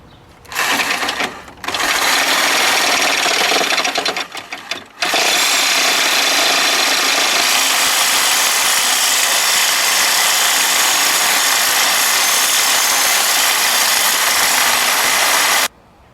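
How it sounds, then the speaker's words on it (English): A 7-inch angle grinder cuts off a worn automotive tie rod from a Case 646 steering assembly, giving a loud, close, continuous high-pitched whine with a short break and a stutter near the start before a long steady cut that then stops. "So 7-inch angle grinder, and makes short work of cutting off that automotive tie rod."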